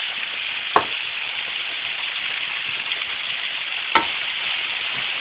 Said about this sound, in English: so your onions can go ahead and saute a little bit